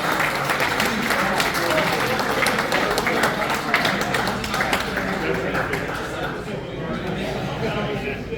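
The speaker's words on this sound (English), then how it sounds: "Let's give a round of applause." An audience at a men's golf closing-day awards ceremony breaks into dense, sustained applause, close and steady, with chatter and a voice talking underneath before the clapping thins out near the end.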